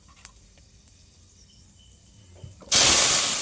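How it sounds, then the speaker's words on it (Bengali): Potato and pumpkin pieces drop into very hot mustard oil tempered with dried chilli, bay leaf and five-spice in a kadai, setting off a sudden loud, steady sizzle after a few quiet clinks. "এইবার আমি আলু আর কুমড়ো দিয়ে দেব।"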